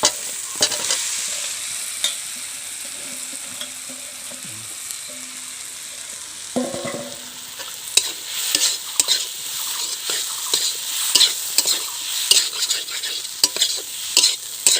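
Potatoes stirred into sautéed spices in a pan for homemade samosa filling: steady close sizzling with a spatula scraping and clattering in irregular strokes, busier in the second half, with no voices.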